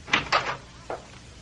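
A door opens in a radio drama sound effect, heard as two quick close clicks of the latch and handle, then a softer knock or thud, with no voices.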